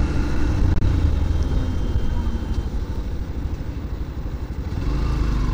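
A motorcycle rides through Sunday traffic after its first service, its engine a close, steady low rumble mixed with surrounding road noise, no talking.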